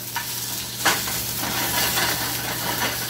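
Plant-based sausage frying in a pan gives a steady, close sizzle throughout, with a low hum underneath and a brief scrape or stir near the start.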